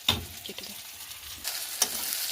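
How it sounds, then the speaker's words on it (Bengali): Spice masala frying in oil in a wok, a soft close sizzle with a few scraping stirs and a brief louder hiss near the end, no voices. "এইদিকে কড়াই থাকা মশলাটা আমি ভালো করে ভেজে নিয়েছি"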